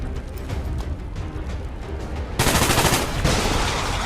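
Gunfire aimed at a sectoid in the strategy game XCOM 2: a sudden loud burst of rapid shots starts midway and keeps going as a dense crackle through the end, after a quieter stretch of game ambience.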